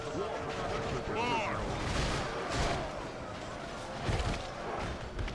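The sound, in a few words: video game organ guns firing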